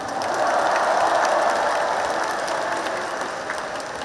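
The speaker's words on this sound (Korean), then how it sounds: "두 분 후보님께 뜨거운 박수 부탁드립니다" A large crowd at a Democratic Party convention gives warm applause to two presidential candidates, with dense, loud, sustained clapping throughout that eases slightly toward the end.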